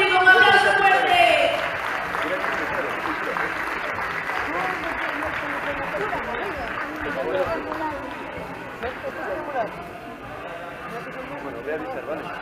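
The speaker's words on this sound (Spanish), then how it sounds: "¡Venga, público, un aplauso fuerte!" Audience at a women's kung fu combat tournament breaks into strong applause that swells at first and then settles into steady clapping for several seconds, with an announcer's voice over it.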